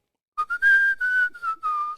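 A person whistles an imitation of the Wii Sports video game whistle, a clear solo run of several short rising and held high notes at close range with no talking.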